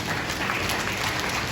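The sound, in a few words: applause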